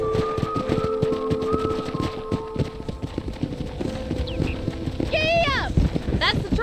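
Horse hooves clip-clop in a steady galloping rhythm, close and prominent, in the Western video game Red Dead Redemption, with a voice speaking over them and a brief whinny near the end.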